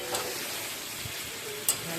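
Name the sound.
spice paste (masala) frying and being stirred in a pan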